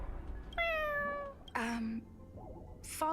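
A cat in the video game Honkai: Star Rail meows twice with clear harmonic cries, then gives a shorter third call near the end. The calls are close and distinct over low game background noise, and nobody talks.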